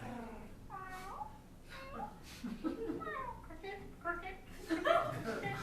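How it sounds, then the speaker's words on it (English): Several meows come from a cat outside in the bushes, faint to moderate and drawn out, rising and falling over a few seconds, with people chuckling and murmuring nearby. "is there a cat in the room or a cat out in the bushes? That cat's outside."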